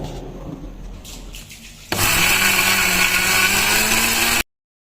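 Garlic, fennel seeds and small onions being crushed together in a small grinder. A quiet rattle is followed by a loud, steady motor whir that runs for about two and a half seconds and then cuts off abruptly.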